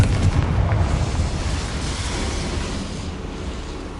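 Bombarda and Confringo spell blasts in the Hogwarts Legacy video game: a loud, booming burst that rolls into a dense, rumbling roar and slowly tapers, with no voices present.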